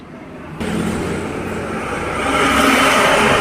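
A motorcycle engine fires up on its electric starter after a quiet moment, then settles into a steady, close running drone that builds slightly louder.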